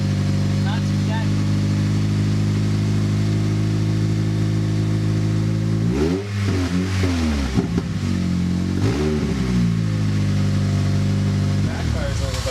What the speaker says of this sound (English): Backfires a little bit.